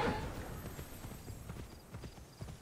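Rhythmic horse hooves clip-clopping in the Immortals Fenyx Rising video game, steady and faint with a brief whinny at the start.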